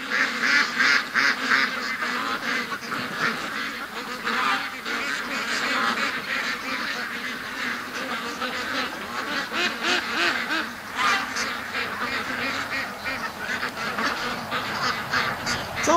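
A flock of backyard ducks quacks and honks continuously at close range in a muddy yard, overlapping calls forming a steady loud chorus with no speech.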